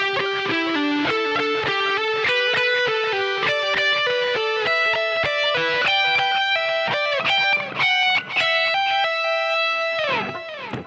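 Electric guitar playing a solo phrase, a steady run of bright, sustained notes with repeated doubled pitches, played alone and fairly loud with light distortion.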